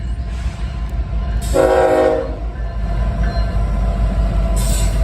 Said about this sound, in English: we got an NS train coming down